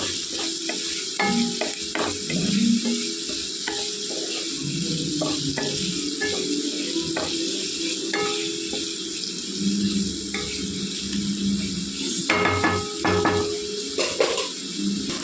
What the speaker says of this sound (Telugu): పావు గంట వేగాలండి, మెత్తపడాలి ఉల్లిపాయలు